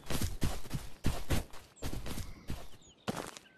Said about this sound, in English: Oh, he's shooting at a guy.